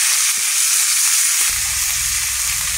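Dried eggplant pieces drop into a pan of fried onion, garlic and ginger, raising a steady, loud sizzle of frying that continues with a low rumble of cooking underneath.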